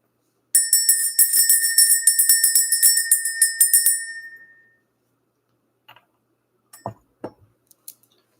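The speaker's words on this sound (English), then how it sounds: "Let's ring this bell." A small bell rung in a spiritual energy-clearing ritual: rapid, close, bright strikes ring out for about four seconds, then the tone decays into silence broken by a few faint clinks.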